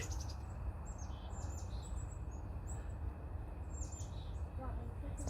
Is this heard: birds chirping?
yes